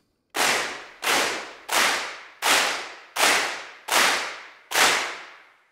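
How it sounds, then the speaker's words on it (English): Seven big crowd claps from a group of 150 people, sampled for the El Clapo clap plugin, hit in a steady rhythm, each a broad unison burst that swells and decays into a roomy tail, with no voices. "to a crowd of 150 people."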